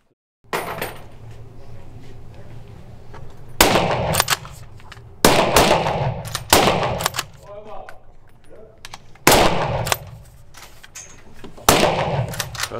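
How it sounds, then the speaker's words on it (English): Shotgun shots ring out during driven shooting training in an indoor shooting cinema, five or six loud sharp blasts spaced a couple of seconds apart, with people talking quietly between them. "So we're in the shooting cinema and we're being trained by Erik"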